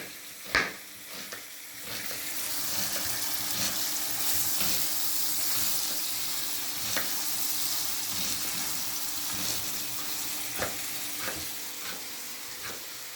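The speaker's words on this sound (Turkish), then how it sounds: "Kıymamız güzelce kavruldu." Minced meat frying in a pan for stuffed bulgur meatballs, a steady sizzle with scraping stirs and a few sharp clinks of the utensil against the pan, close and continuous, with no talking.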